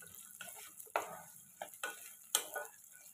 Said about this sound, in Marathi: हे पावटे ही तेलावर 1 मिनिट आपण छान असे परतून घेऊया।